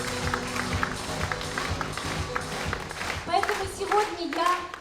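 Audience applause for a folk choir at a jubilee concert, a steady patter of many clapping hands blended with music and voices throughout.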